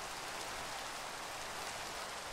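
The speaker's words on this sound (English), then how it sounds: "I better get out of this rain. It's like really coming down out here." Steady, dense rain falls in the game Minecraft, an even broadband hiss of a heavy downpour with no breaks or other sounds.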